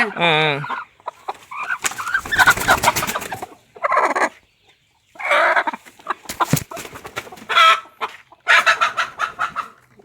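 A native country hen sitting on her eggs in a coconut grove gives loud, close clucks and drawn-out broody calls in irregular bursts, with short silent pauses between them.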